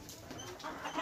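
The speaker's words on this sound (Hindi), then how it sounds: "ये मुर्गी है, सभी अंडा देने वाले बेच का मुर्गी है ये।" Local desi chickens, egg-laying hens, clucking softly in a brief, faint burst of low fowl calls.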